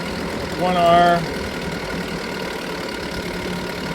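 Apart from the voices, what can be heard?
Chrysler 4.4 hp outboard motor running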